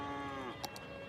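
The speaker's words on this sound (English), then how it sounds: "Moo indeed, shut up. Stop mooing." Farm animal lowing in the city-building video game Cities: Skylines, a short faint drawn-out moo fading under quiet ambient game sound.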